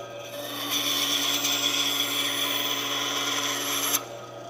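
A shop band saw cuts through wood, giving a steady, loud whining drone that holds for several seconds at an even pitch before the blade clears the piece and the tone drops off.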